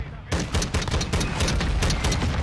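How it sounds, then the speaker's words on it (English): Rapid automatic fire from a Lockwood MK2 in Call of Duty: Modern Warfare, loud, close bursts of shots in quick succession filling the clip after a brief silent start, with a voice speaking over the gunfire. "This thing moves a lot when you shoot it without those attachments"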